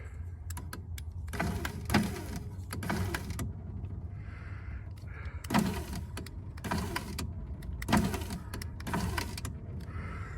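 The electric power window motor of a towed car (toad) behind an RV whirs up during a window repair. It comes in repeated strokes with sharp clicks and knocks between them, close by, with no talking.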